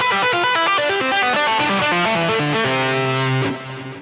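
A fast distorted electric guitar tapping lick runs over a repeated pedal tone, rapid even notes played at speed that ring out briefly at the end, loud and alone.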